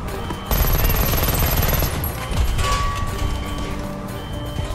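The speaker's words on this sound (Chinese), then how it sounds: "枪声惊动了所有人" Gunfire erupts in a violent film scene as gang members storm in, a dense burst of rapid shots over a loud, sustained action soundtrack that stays full and busy to the end.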